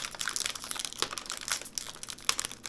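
A resealable Zero Sugar fudge striped cookie package crinkles sharply up close, with a steady run of crisp rustles and crackles as it is opened and handled, and no talking.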